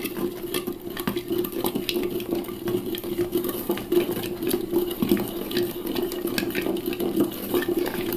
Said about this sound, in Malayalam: ആ മരത്തവി കൊണ്ട് നമുക്കിതൊന്ന് ഇളക്കാം.